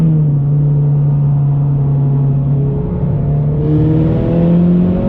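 A Mazdaspeed 3 engine pulls wide open in third gear at about 5,000 rpm through a bend, a loud steady droning roar heard from inside the car, rising slightly in pitch toward the end.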